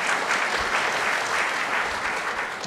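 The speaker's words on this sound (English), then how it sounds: "So let's give her a round of applause." Steady audience applause at a church gathering, filling the whole short stretch at an even, fairly loud level with no talking over it.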